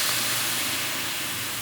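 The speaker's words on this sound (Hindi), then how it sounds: "कढ़ाई को हमने चूल्हे पे रख दिया है और इसके अंदर अब मैं डाल रही हूँ सबसे पहले ये चिकन के" Chicken pieces sizzling in a hot karahi on a stove, a loud, continuous dense hiss close up with no speech.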